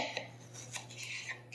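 Knife cutting heirloom tomatoes into wedges on a board, producing soft, light scraping and tapping strokes with a few small clicks, close and quiet with no talk.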